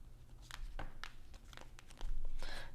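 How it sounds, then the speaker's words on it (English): Tarot cards are pulled from a large deck, giving soft papery crinkles and brief rustling slides up close, a few separate card movements in a quiet room. "I'm going to pull from the deck because the deck is a little large for my hands."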